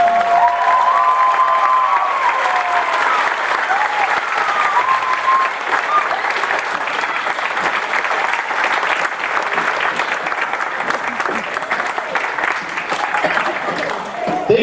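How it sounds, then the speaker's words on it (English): Sustained audience applause at a school event honouring three women, a dense, steady wash of clapping lasting the whole span at close range, with faint voices and cheers mixed in. "Why don't we give them a round of applause?"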